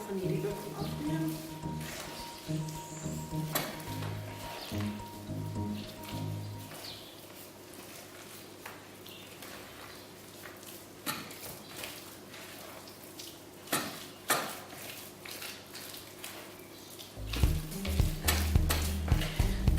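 A spoon works through thick chocolate chia sweet potato loaf batter in a bowl, giving a steady run of soft scraping and wet slapping with sharper knocks near the end.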